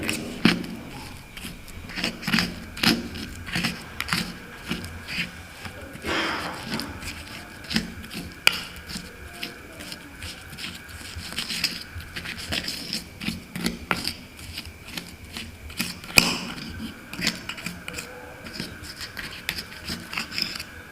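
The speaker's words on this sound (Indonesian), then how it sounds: "Kita campur dengan kapur sirih. Kita campur, kita aduk-aduk seperti ini." A herbal remedy mixed with betel lime is being stirred and mashed by hand, giving close, irregular scraping and grinding rubs that continue steadily without talk.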